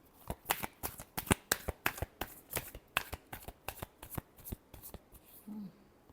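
Tarot cards are shuffled close up in a series of quick, rhythmic riffles and soft slaps, fairly quiet and steady, ending with a faint low murmur.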